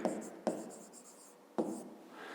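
Pen or chalk writing by hand during a fifth-grade maths exercise: a few quick strokes, each starting with a sharp tap and ending in a short scratch, heard alone and close.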